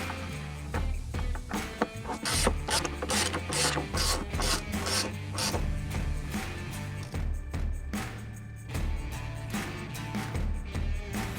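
A ratchet runs down button head fasteners on a Harley-Davidson motorcycle bracket, giving rapid repeated clicking strokes in bursts, close and fairly loud, with metallic rubbing between passes.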